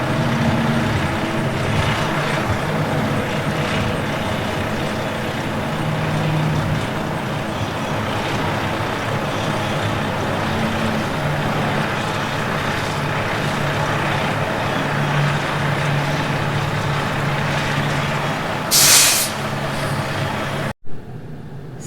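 A Prevost coach bus reverses slowly in a straight line, its steady diesel engine rumble and drone continuing near and loud for about twenty seconds, with a brief hiss of air brakes near the end.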